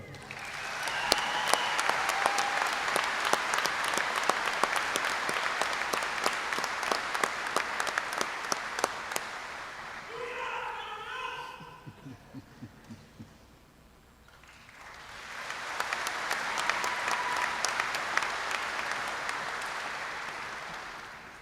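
An audience applauds in a long burst that fades briefly, then swells into a second round of sustained clapping from a large crowd at a police academy graduation ceremony.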